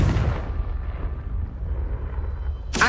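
A Confringo explosion spell in Hogwarts Legacy bursts with a deep, heavy boom that rumbles and slowly fades over a couple of seconds, then another sharp burst cuts in at the very end.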